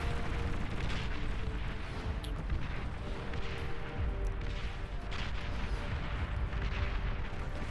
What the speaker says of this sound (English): Trying to do a little strafing run by with the Janus firing